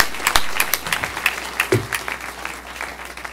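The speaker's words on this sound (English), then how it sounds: "let's give ourselves a round of applause for being back here together" Synagogue congregation gathered for a Hanukkah rededication ceremony claps in a loose, thinning round of applause, with distinct individual claps standing out and a few voices and whoops scattered through it.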